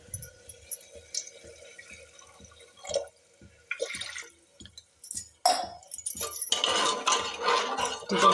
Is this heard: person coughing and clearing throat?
no